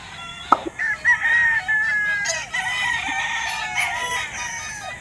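A white Kelso pullet at a Bustos, Bulacan gamefarm crows close by, one drawn-out call after a sharp squawk, with faint clucking and other fowl in the background and no talk.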